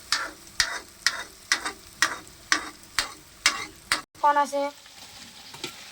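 Potatoes fry in a pan while being stirred, with rhythmic scraping strokes about twice a second over a sizzle, followed by a brief spoken phrase.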